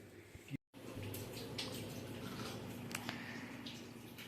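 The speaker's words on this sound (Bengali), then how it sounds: "দেখ দেখ দেখ গা হাত পা জল ছিটাচ্ছে দেখ।" Water splashes and drips close by as someone bathes, splashing it over their body, with a continuous wet patter, a brief dropout near the start and a few sharper splashes.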